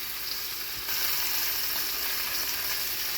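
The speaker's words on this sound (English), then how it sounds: "it gets a little messy cooking steak on the stove" A ribeye steak sears in a cast iron pan on a stovetop, a loud dense sizzle that swells a little partway through and then holds steady, with no voices.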